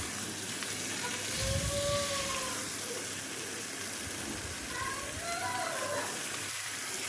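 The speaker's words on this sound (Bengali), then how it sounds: "মৌসুমিটা ভালোভাবে নেড়ে চেড়ে ভেজে নেব।" Vegetables sizzle steadily as they fry and are stirred in a small kadhai, a soft, continuous hiss with faint scraping and a few brief tonal sounds over it.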